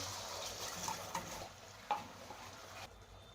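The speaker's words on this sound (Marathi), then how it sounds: "आता कढाईत तेल टाकलंय तेल गरम झालंय मसाला बारीक वाटून घेतलाय आता कढाईमध्ये टाकून घेते" Ground spice paste tipped into hot oil in a kadhai while making matar paneer, giving a soft continuous sizzle with a few brief stirring clatters, fairly faint and without talk.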